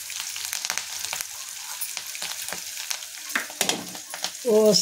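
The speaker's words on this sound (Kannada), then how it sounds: "ಎಲ್ಲ ಎಣ್ಣೆದಾಗೆಲ್ಲ ಚೆಂದ ನೀಟಾಗಿಂದ ಫ್ರೈ ಮಾಡ್ಕೊತೀನಿ ನೋಡಿ" Vegetables and dried red chillies frying in oil for a millet khichdi, a close crackling sizzle with repeated stirring scrapes, ending in a brief louder clatter.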